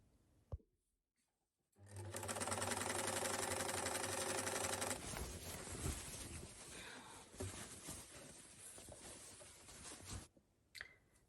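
A sewing machine runs steadily, stitching strips of scrap fabric together for a lampshade cover, loud and continuous for about three seconds and then continuing more unevenly. Brief handling noises come before and after.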